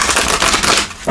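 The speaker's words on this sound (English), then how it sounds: "Let's give these a shuffle." A deck of tarot cards is shuffled close by for a pick-a-card reading, making dense papery riffling and rustling with no pauses, ending in a brief louder snap.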